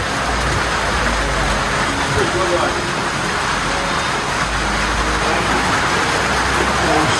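Steady, dense hiss of rain falling without pause, loud and close throughout, with a faint low rumble underneath.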